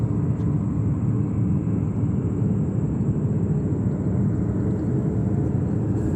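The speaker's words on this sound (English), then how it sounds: "we have on the runway now ready for takeoff 320 flight, JetBlue flight 765." A JetBlue Airbus A320 takes off from JFK, its jet engines making a loud, continuous low-frequency rumble and roar that stays steady throughout with no voices.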